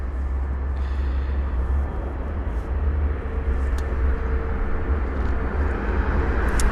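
Airliner rolling along the runway at London Heathrow, a steady low rumble of jet engines with broad roar holding evenly throughout, no voices.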